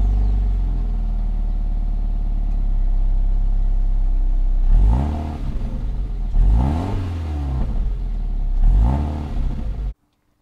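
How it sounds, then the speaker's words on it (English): A 2020 Toyota 86 GT engine idles, then revs sharply three times through its dual exhaust, each burst rising and falling close by, before the sound cuts off abruptly. "And while we're back here, we have our dual exhaust."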